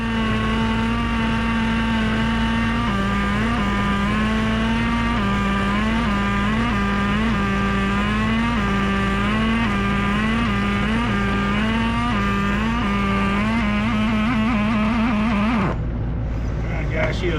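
A Traxxas T-Maxx 2.5 nitro RC truck engine idles during break-in with a steady, buzzy drone that wavers slightly in pitch, continuous and close for most of the stretch before cutting off abruptly near the end.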